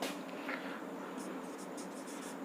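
Short, scratchy strokes of writing on a board during a Class 10 math lesson on linear equations, a quick series of rhythmic scrapes over a steady room hum.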